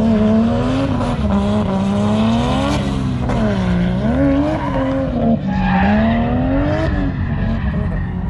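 A drift car at Memphis International Raceway slides with loud, continuous tire squeal over a roaring, wavering engine, revving up and down close by.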